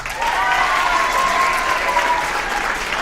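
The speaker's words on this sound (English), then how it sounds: "Give him one more round of applause." Full, steady applause from a school audience at a student writing reading, continuous dense clapping at an even level with faint crowd voices mixed in.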